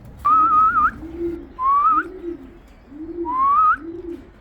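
Racing pigeons returning to the loft from a race coo nearby in three repeated calls, each a rising whistly note over a softer throaty coo, steady and close.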